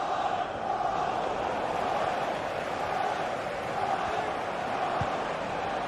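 Steady roar of a stadium crowd in a football video game, a dense, continuous wash of massed voices with no breaks, holding at an even level throughout.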